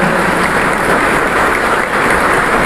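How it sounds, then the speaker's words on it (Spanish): A crowd applauds at the Pawkar Raymi festival in Peguche, a loud, continuous wash of clapping hands that holds steady without breaks. "Denles un aplauso a los dioses de la festividad"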